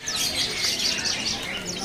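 Caged dark loper canaries at a bird market chirp and twitter in a busy overlapping chorus, close and continuous for a short stretch.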